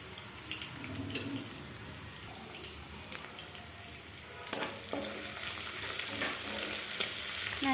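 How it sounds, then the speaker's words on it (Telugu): Curry leaves and a pinch of turmeric sizzle steadily in a pan for a flat bean and tomato curry, with close scraping stirs and a sharper clatter midway. The frying grows slightly louder toward the end. "కరివేపాకు కూడా యాడ్ చేసుకొని బాగా ఫ్రై చేసుకోండి."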